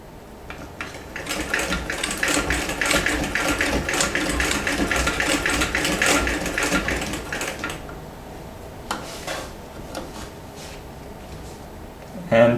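A vintage Singer 206K sewing machine zigzag stitching on denim: a rapid mechanical clatter running steadily for several seconds, then stopping, followed by a few scattered clicks and handling noises nearby.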